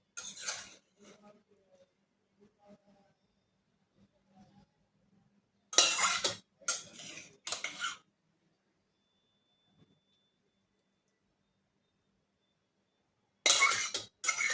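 A spoon scrapes and clinks as a Bengali eggplant-and-fritter chorchori is lifted from the pan into a bowl, in a few short bursts of metallic scraping separated by quiet, after soft kitchen murmurs.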